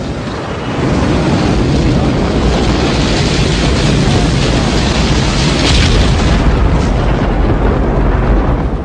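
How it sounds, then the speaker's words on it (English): A rocket's engines ignite and roar in a dense, loud, unbroken rumble that rises suddenly and holds steady for several seconds, with no voices over it. "10, 9, ignition sequence start. 6, 5, 4, 3, 2, 1, 0. All engine running."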